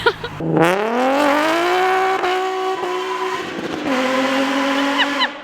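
A very loud Nissan 350Z exhaust with a backfire tune revs up sharply and holds a raspy roar, with pops and crackles near the end.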